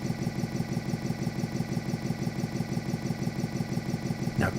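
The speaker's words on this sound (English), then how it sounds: "Place the transmission in neutral and let the engine warm up for about 2 to 3 minutes." A motorcycle engine idles steadily in neutral while warming up, a continuous low, even rumble with regular pulsing close by, with a brief louder burst right at the end.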